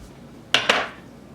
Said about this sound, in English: We're going to just take a dull knife and go along the side. So I'll just push it against the back of the pan and then slide it around.